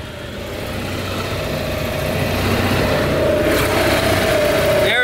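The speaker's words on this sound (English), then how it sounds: "Generator is on and running." An ONAN generator on a motor home runs with a steady, loud mechanical drone and low rumble, holding an even hum throughout with a faint higher whine near the end.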